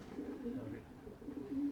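Racing pigeons in a loft, soft low repeated cooing close by, with quiet background noise.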